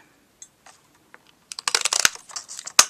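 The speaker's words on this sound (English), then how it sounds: "we'll get that S punched out" A 1-inch circle punch presses through real red cardstock to cut out a letter S, giving close, crisp crunching and snapping clicks after a quiet start, with a sharp final snap near the end.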